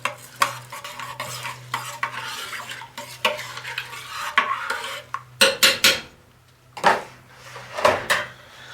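Spoon stirring garlic powder, onion powder, cumin, salt and pepper into burrito bowl filling in a crock pot, with repeated scraping clinks against the pot, a couple of sharper knocks and a steady low hum underneath.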